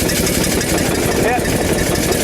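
An early Ford car engine is revved through the throttle, running loud and close with a continuous rough mechanical roar.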